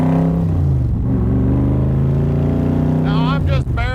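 A 1965 Shelby Cobra Backdraft's engine drones loud and close under light throttle, its low note swelling and climbing as it pulls away, with someone talking over it throughout.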